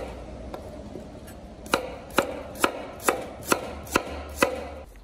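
A knife chops fresh unpeeled ginger on a cutting board in a home kitchen, with seven sharp, evenly spaced cuts coming after a quiet start, each clear and close against faint background noise.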